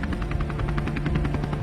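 A helicopter's rotor beats thud in a fast, steady rhythm under a loud, continuous engine drone, close and dominant with no voices.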